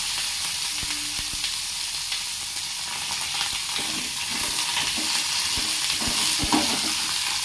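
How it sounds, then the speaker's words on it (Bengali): Pieces of pointed gourd fry steadily in a pan with hot oil, a dense continuous sizzle with occasional light clinks and scrapes, close and fairly loud, no voices. "পটলগুলো ভাজা করে নেব।"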